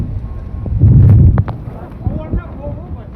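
Strong wind gusts buffet the microphone in a loud, low rumbling surge, then ease into a steadier blowing, with faint voices underneath.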